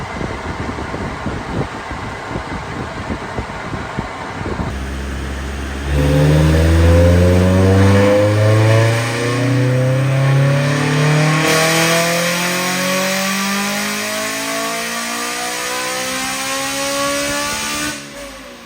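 A Honda S2000 engine revs on a dyno after a slight fuel adjustment, climbing in a long, loud continuous sweep from low to high rpm before dropping off, with steady fan noise underneath.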